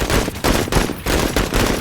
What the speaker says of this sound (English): Now we're going to use the machine gun.